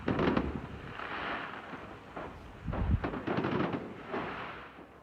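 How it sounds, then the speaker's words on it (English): Rapid crackling bangs of fireworks exploding in a fire at an electronic music festival site in Belgium, dense bursts popping and rumbling like distant gunfire with no voices. "That's the sound of fireworks exploding as the fire burned."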